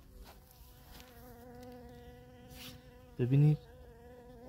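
Honey bees at a weak beehive colony, a faint continuous buzzing hum with a brief louder burst as a bee passes close, under a single spoken word.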